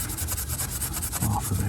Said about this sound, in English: I'm gonna go with a scrubbing pad.